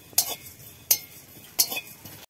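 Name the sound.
dry-roasting cumin and coriander seeds in a pan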